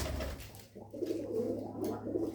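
A champion racing pigeon coos softly, low throaty rolling calls repeating in a close but quiet run of about two seconds.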